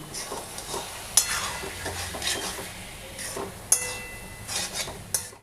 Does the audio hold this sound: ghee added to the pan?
yes